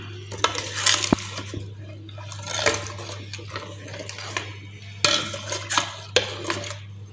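Sattu flour being stirred into sugar water with a spoon, producing repeated clinks and scrapes against a metal vessel in irregular bursts, close and fairly loud over a steady low hum.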